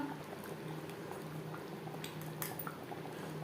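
Chilli chicken gravy simmers in a pan with a quiet, continuous bubbling and soft wet popping, close and fairly faint.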